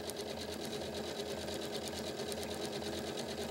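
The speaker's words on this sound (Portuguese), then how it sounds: "eu vou passar a costura aqui na asa do anjinho" A sewing machine runs a steady, even stitch along the wing of an angel-shaped pillow, heard faintly but continuously and close up.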